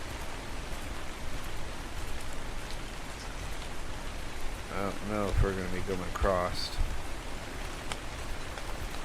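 Steady rain falls in a survival video game set on a scorched desert map, a constant soft hiss throughout, with someone talking briefly over it partway through.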